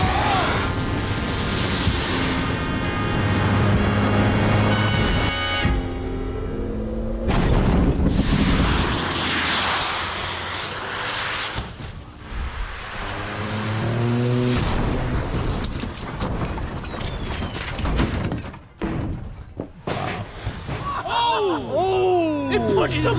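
Jet-powered car screams toward a row of buses, a loud roaring whine layered with crowd cheering and excited voices, ending in bursts of commotion and shouting.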